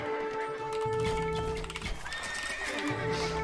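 Horses whinny over busy clip-clop hooves and battle clatter in the video game Age of Empires 2 Definitive Edition, loud and continuous over a steady game soundscape.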